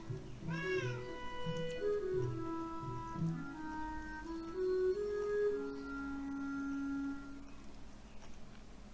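Cat meowing in the video game Beyond Eyes, several drawn-out tonal meows in a row, fairly close and clear over a quiet background.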